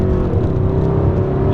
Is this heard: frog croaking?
no